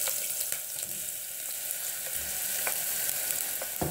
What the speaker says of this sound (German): Ich werde erst die Kartoffeln braten.